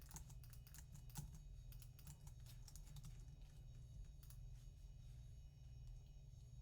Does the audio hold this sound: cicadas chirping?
no